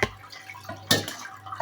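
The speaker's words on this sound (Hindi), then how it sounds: "अभी हम पानी से धो रहे हैं" Water rinsing cooked macaroni for a chicken macaroni dish, heard as short splashy pours and drips, close and moderately loud.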